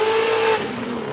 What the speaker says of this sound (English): You hear that even exhaust note, Ryan, consistent with the throttle.